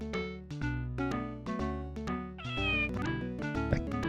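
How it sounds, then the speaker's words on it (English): Cat meows from the SNES video game Nosferatu. About eight loud, clear, synthetic-sounding meows repeat in a quick, steady rhythm, with no speech. "That was a cat."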